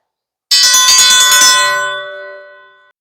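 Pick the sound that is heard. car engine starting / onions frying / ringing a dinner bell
ringing a dinner bell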